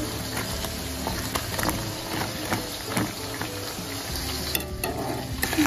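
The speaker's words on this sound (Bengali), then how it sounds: "এদিকে দেখুন চিংড়িটা ভাজা হচ্ছে" Prawns frying in hot oil in a Bengali home kitchen, a steady close sizzle and crackle running throughout with small pops and stirring scrapes, no talking.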